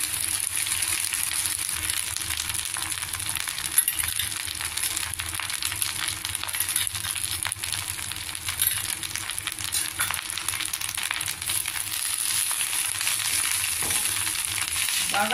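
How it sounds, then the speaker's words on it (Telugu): Dried white gongura (sorrel) leaves fry in a pan over low flame, producing a constant soft crackling sizzle with occasional light stirring taps, close and unbroken for the whole stretch. "ఈ గోంగూర మనం వేసి వేయించేసుకోవాలి."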